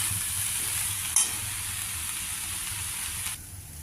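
Cowpea pod curry with moong dal and coconut is stirred in a pan, making a soft steady sizzle with light scraping. One brief sharp clink comes early, and the sound drops quieter near the end.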